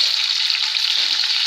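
Onions fry in a pan over a high flame, giving off a steady, close hiss and crackle of sizzling oil that stays even and unbroken, with no voices.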